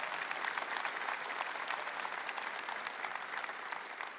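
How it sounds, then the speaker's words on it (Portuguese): Congregation in a Catholic church giving a round of applause, dense and even clapping from many hands held at a steady level throughout, somewhat distant. "Dá uma salva de palmas para Jesus"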